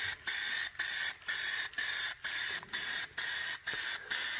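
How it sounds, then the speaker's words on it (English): Paint sprayer spraying a mill in short repeated bursts, about nine hissing blasts with brief gaps between them, close and fairly loud, no talking. "I'll spray some kind of hard to get areas first so that I'm not getting too much paint on them"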